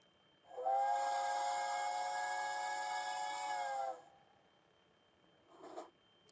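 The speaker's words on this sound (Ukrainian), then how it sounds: "Ой, що це за звук був? Звук потяга." A loud steam train whistle blows steadily for about three seconds with a hissing edge, then cuts off, followed by a brief faint puff of noise.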